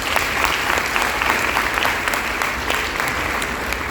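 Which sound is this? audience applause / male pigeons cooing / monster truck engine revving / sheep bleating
audience applause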